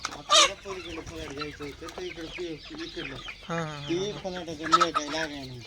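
A multicoloured native country rooster, kept among chickens for sale, gives a run of close clucks and throaty calls, with someone talking nearby.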